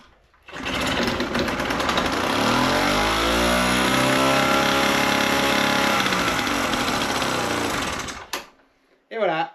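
A Solex moped with electronic ignition is started by turning its wheel, then the small two-stroke engine catches and runs loud and close with a steady buzzing drone for several seconds before cutting out, followed by brief talk.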